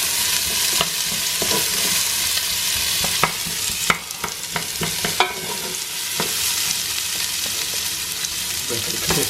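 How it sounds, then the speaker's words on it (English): Onions sizzling in olive oil in a pot, a constant close frying hiss with sharp spoon clacks and scraping as they are stirred, loud and alone. "Just added the onions and give them a quick stir. Just coating them with the olive oil."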